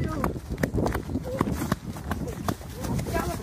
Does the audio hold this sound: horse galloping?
yes